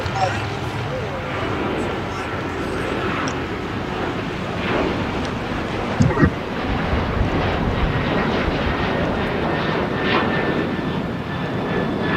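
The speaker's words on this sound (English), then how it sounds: "This plane that's departing right now, that's trusting, this is Alaska Airlines flight 1394" An Alaska Airlines Boeing 737-800, a 16-year-old jet, taking off from LAX, its engine roar loud and steady with broad rushing wind noise throughout, a brief thump partway through, and a voice talking over it.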